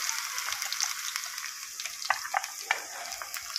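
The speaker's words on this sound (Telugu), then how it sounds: "ఆయిల్ కొంచెం హీట్ అయ్యాక ఫస్ట్ వెల్లుల్లి వేసుకోండి." Garlic sizzles and crackles in hot oil for a tempering, a steady close frying hiss with scattered sharp pops and a few louder spits toward the end.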